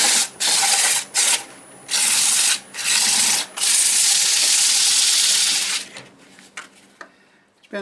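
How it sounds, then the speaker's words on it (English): Dry walnut wood is sanded on a lathe, giving a loud, rough hiss of abrasive against the spinning wood in several bursts separated by brief gaps, then fading to softer rubbing and faint handling noises. "I'm going to go ahead and sand it from 80 to 400"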